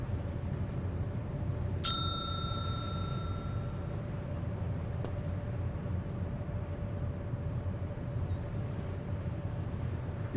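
A single bright metallic ding rings out from a bell in the Secret Files 2 video game, decaying over a couple of seconds above a low, steady ambient hum.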